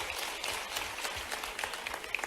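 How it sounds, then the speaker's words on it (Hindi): Applause from a youth dialogue event audience led by the Madhya Pradesh chief minister, a fairly faint, steady patter of many hands clapping for about two seconds, distant and without talk. "जोरदार ताली बजाओ इनके लिए"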